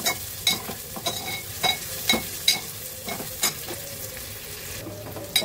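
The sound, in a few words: onion frying in a pan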